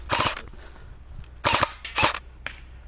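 Airsoft guns fire in an outdoor skirmish game: sharp snapping shots in quick bursts, a cluster at the start, then another volley about a second later with a few single pops, close and loud over low background noise.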